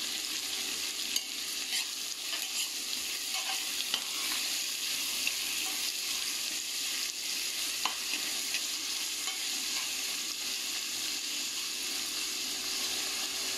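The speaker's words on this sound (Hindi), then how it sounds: "हमें ओनियन और करी पत्ता एक साथ डालना है।" Onions and curry leaves sizzle steadily in hot oil, a continuous close hiss and crackle with faint stirring scrapes throughout and no talking.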